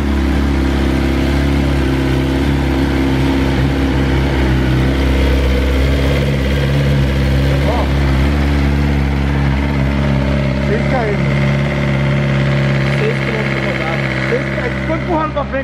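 A new faired motorcycle engine idles steadily up close, a continuous low rumble running throughout while people talk over it.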